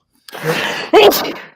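One close, loud sneeze, a brief breathy intake followed by a sharp explosive burst that quickly fades.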